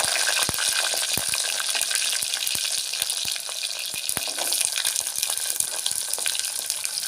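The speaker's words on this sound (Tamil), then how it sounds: "போட்டு நல்லா கலந்துக்கிடுங்க நல்லா வதங்கி வரட்டும்" Small onions, garlic cloves and two dried red chillies sauté in hot oil for a colocasia kara kuzhambu. A steady, close sizzle runs throughout, with frequent sharp clicks and scrapes from stirring.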